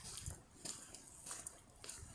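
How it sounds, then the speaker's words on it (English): A dog off its leash, heard as several short barks or yelps spaced roughly evenly, moderately near, against a faint outdoor background with no talking. "That's a dog."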